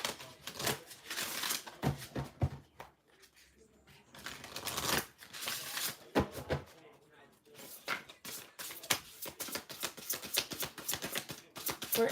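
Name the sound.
shuffling tarot cards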